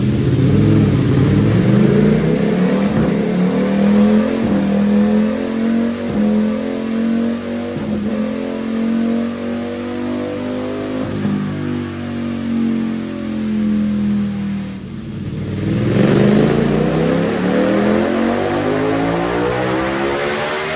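Modified 2025 Ducati Panigale V4 running on 91 pump gas on a dyno, engine pitch climbing in a long sustained pull, dropping briefly, then rising again, loud and close with no talk.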